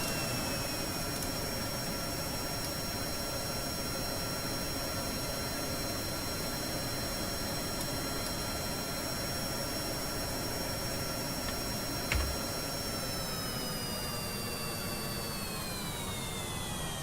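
Jet engines roar on a plane in Kerbal Space Program: a loud, steady rushing drone with whining tones that slide lower near the end, broken only by a single click.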